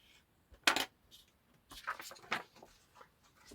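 Scissors snipping through paper from educational books for a hand-cut collage, a few quiet, separate cuts with short crisp rustles and pauses between them.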